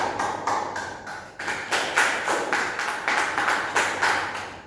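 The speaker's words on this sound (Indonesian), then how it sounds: "Tepuk tangan untuk kita semuanya." Schoolchildren in a classroom clap in a rhythmic group applause, steady repeated beats of many hands close by with no talking.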